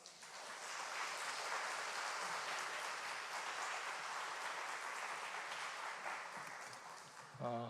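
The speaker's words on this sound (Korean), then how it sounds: "이 시간 목사님 나오실 때 우리 환영의 의미로 우리 박수로 맞이하겠습니다" A church congregation claps steadily to welcome a pastor to the front. The applause is a dense, continuous wash that stays fairly faint and even for several seconds, heard from a distance in a large room.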